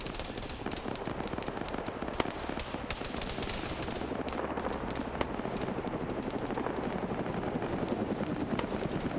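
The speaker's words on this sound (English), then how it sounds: "So I would assume that helicopter is just maintaining an orbital for both recon and to try to draw fire." A helicopter in the military shooter Arma 3 flies overhead with a steady, dense rotor thrum throughout, joined by scattered sharp cracks of distant gunfire.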